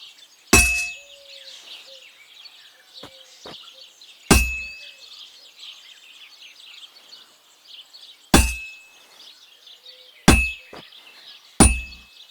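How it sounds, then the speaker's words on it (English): A smith's hammer strikes a workpiece on an anvil in Kingdom Come: Deliverance II, giving five loud, ringing blows at uneven intervals, with birdsong chirping steadily in the background. "if it was all about hitting an anvil with a hammer, any dolt could do it"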